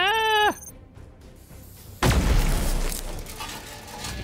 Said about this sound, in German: Was ein schöner Plasma-Knall.